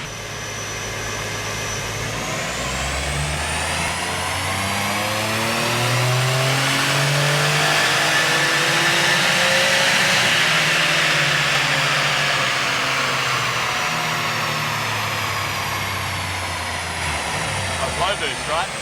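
A powerful custom-built car's engine revs on a dyno in low boost and Intelligent drive mode, one long loud sweep rising then falling over many seconds, close and alone.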